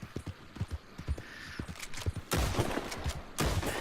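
Galloping horse in Red Dead Redemption 2 online, hooves drumming steadily while bursts of gunfire crack out, with a dense volley of shots near the end, all loud and close.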